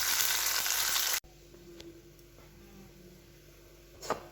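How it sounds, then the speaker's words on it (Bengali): Fish frying in oil in a home kitchen gives a loud, bright sizzle for about a second, then it drops abruptly to a faint hum with a few soft clinks. "মাছ ভাজা আরও কটা বাকি আছে, এইগুলো ভেজে নিই"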